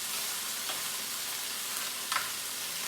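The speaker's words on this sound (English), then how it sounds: "Okay, so the chicken's sizzling really well." Steady, close sizzling of chicken skewers frying in a pan, a broad crackling hiss with a couple of brief scraping clinks, no voices.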